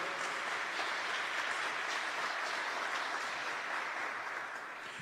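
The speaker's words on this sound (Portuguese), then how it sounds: "Pode aplaudir também, pode aplaudir." Audience applause, a dense, steady clapping from a crowd that holds for several seconds and fades slightly at the end, with no talking over it.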